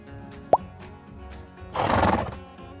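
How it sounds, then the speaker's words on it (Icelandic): A horse whinnies on a farm, a single loud, rough neigh lasting about a second, preceded by a short pop and heard alone without speech. "Hestur."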